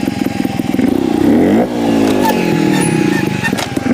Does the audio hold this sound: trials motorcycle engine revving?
yes